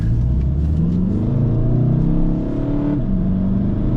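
A 2016 VW Golf VII GTD diesel with 184 hp accelerates hard from 0 to 100 km/h, its engine note rising steadily with a brief dip around a gear change near the end, loud and continuous with no talk.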